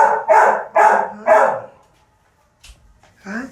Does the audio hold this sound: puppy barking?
yes